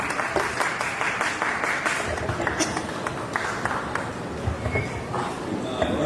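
Audience applause at a televised celebration of the 5000th episode of Yeh Rishta Kya Kehlata Hai: a steady, dense clatter of clapping hands that runs throughout, with voices mixed in among the crowd.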